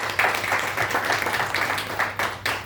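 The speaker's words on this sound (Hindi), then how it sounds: "जोरदार तालियां" An audience claps together at a health product presentation, a steady, moderately faint patter of many hands that rises and dips in small surges for a few seconds.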